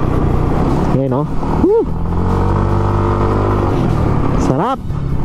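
Yamaha automatic motorcycle on a first ride, engine held at a steady loud drone with brief throttle blips rising and falling in pitch, wind noise throughout and a voice talking over it.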